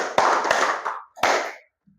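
A few hand claps in a training session, then a sustained burst of clapping with a short break before a second burst, close by and fairly loud, with no talking over it.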